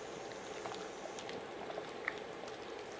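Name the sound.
pechay blanching in boiling pork rib broth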